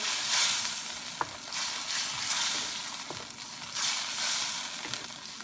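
Pork binagoongan fries in a pan while being stirred, a steady sizzle swelling in waves with occasional spoon taps and scrapes against the metal.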